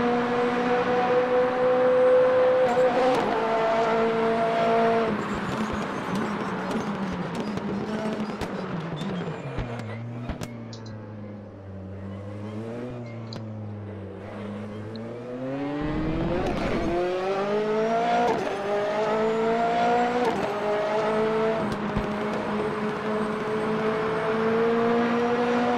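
P4/5 Competizione race car in RaceRoom Racing Experience at Monza: a loud, sharp engine wail rising and falling through gear changes, dropping to a lower burble midway before climbing again, heard alone throughout.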